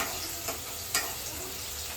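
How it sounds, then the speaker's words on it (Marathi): Finely chopped onion sizzles steadily as it fries in hot oil, a constant close crackle with a couple of brief louder stirring scrapes and no talk. "इकडे आपलं तेल गरम झालं त्याच्यामध्ये हा जो एक बारीक चिरलेला कांदा आहे तो आपण टाकून घेणार आणि छान असा परतून घेऊया"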